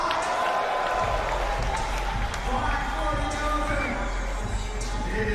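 A crowd at a BMX street jam cheers and applauds continuously in a large outdoor setting, with a low rumble beneath and scattered shouts, holding a steady level throughout.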